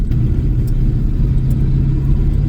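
A pickup truck with a 7.3 engine drives along a road in extreme cold, about minus 40, its steady low engine rumble and road noise loud and continuous throughout.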